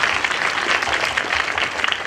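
At a school annual day celebration, a crowd applauds in honour of the late Neeraj Vora, producing steady, dense clapping throughout at an even volume.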